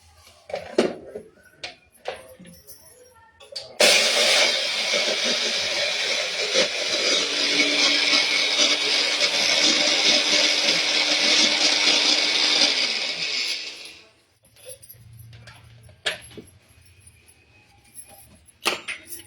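A mixer grinder grinds chana dal, whirring loudly for about ten seconds, then winds down, with scattered clicks and handling noises before and after.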